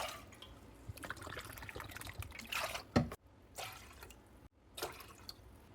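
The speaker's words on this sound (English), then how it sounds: "We'll start by adding equal parts apple cider vinegar and water." Apple cider vinegar and water pour into a container for a quick pickling brine, a soft, steady liquid trickle and splash with a few brief gaps, close and fairly quiet.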